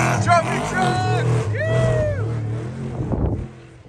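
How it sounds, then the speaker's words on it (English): An off-road trophy truck races past during a desert race, its engine roaring loudly and steadily. Excited voices talk over the sound. "Oh, here's another trophy truck."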